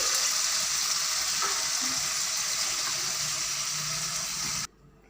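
Potatoes fry in a pan with a loud, steady, even sizzle that holds for several seconds and then drops away abruptly to a much quieter background.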